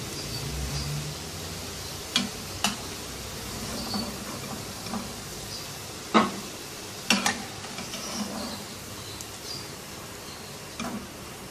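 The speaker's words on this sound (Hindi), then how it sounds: "ऐसे ही तमाम नगेट्स को फ्राई कर लेंगे।" Breaded chicken nuggets fry in oil to golden brown, a soft, even bubbling hiss punctuated by scattered sharp clicks and taps from utensils and the pan.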